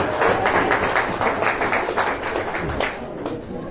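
An audience at an Icelandic Canadian Thorrablot gathering claps steadily for the emcee, a dense, sustained patter of many hands that carries on for several seconds before easing slightly.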